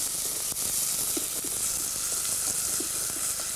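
Onion frying in olive oil at the start of a risotto, a dense continuous hiss and crackle of sizzling with faint stirring taps, close and steady.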